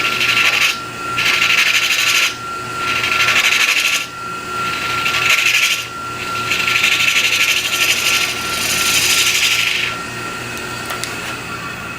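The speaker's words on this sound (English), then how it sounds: "I'll take a small scraper, round edge scraper, and dome the top, the inside top of this a little." A small round-edge scraper shaping the inside top of a wooden ring box spinning on a lathe, giving a steady loud rasping scrape in four long passes with short pauses between them, under a constant motor hum.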